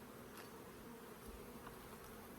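Honey bees droning densely on a hive frame during queen cell inspection, a close, steady, faint buzzing swarm with no talking.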